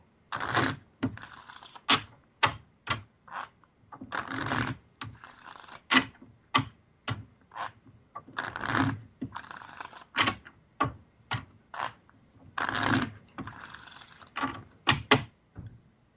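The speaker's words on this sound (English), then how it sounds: "let's hear you shuffle those cards right here" Bursts of rapid papery riffling from a deck of playing cards being shuffled several times, close by, with short pauses between.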